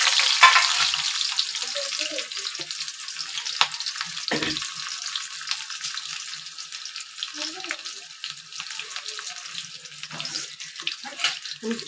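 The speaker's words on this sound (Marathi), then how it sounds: "तेल तापलंय त्यात मी कांदा, लसूण आणि कढीपत्ता टाकते." Chopped onion, garlic and curry leaves hit hot oil in a pan with a loud initial sizzle that settles into a steady frying hiss, with occasional stirring scrapes and clinks close by.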